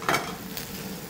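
Onions are stirred in a cooking pot, a brief close scrape of the spoon over a soft sizzle, with no voices.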